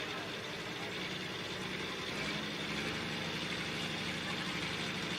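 Turbocharged inline six-cylinder International engine built as a limited pro stock motor, idling with a steady low rumble and faint turbo whine, moderately loud and continuous, with no talking over it.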